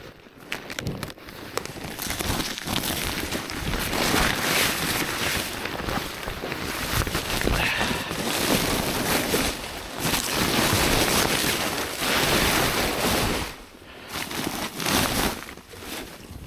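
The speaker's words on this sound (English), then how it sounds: "Oh, windy and cold out here today." Cold wind on a winter trail blasts the microphone in long, loud roaring gusts with brief lulls between them, broadband and close, with no voices.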